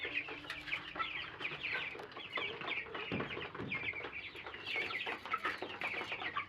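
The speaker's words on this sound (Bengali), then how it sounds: "এই যে এখন দেখাবো ছোট্ট মুরগির ফার্ম" Chickens in a small poultry farm cluck and chatter continuously at close range, several birds overlapping in a busy, fairly quiet flock sound with no talking.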